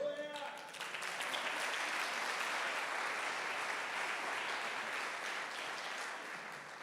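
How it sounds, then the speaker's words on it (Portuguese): Steady applause from a church congregation during a Portuguese-language service rises quickly after a brief moment of voice and holds as a dense, even wash of clapping for several seconds, fairly quiet overall. "Aplaude Jesus aí pela vida dele, irmão."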